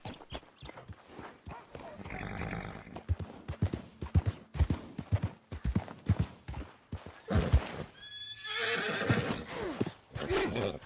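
Hooves clip-clop in a quick rhythm while a horse in Red Dead Redemption 2 snorts and lets out a shrill whinny near the end, with some speech mixed in.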